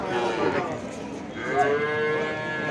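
A Sahiwal cow and her calf on a cattle farm give a clear, nearby moo partway through, over a low murmur of farm background sound.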